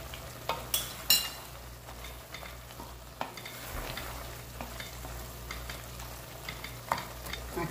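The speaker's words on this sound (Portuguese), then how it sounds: "Aí vamos misturar isso aqui. Até botar essa colher aqui pra rapar o tacho." A spoon stirs and scrapes a cooking pot of galinhada, giving a few sharp clanks early on and then steady scraping over a soft sizzle and low hum.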